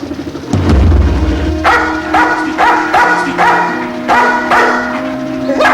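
A police dog barks repeatedly and loudly at close range in a fast, uneven rhythm, with a few whimpering yips between the barks.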